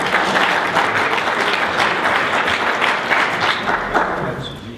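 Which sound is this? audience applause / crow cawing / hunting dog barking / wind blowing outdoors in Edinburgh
audience applause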